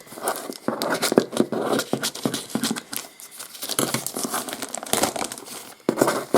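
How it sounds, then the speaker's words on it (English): Cardboard parcel box being cut open and unwrapped up close, with bursts of crinkling, tearing and scraping in irregular runs separated by short pauses. "So we'll cut it and see what's inside."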